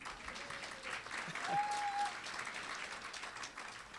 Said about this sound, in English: You can applaud to that, absolutely.